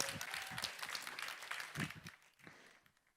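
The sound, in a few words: audience applause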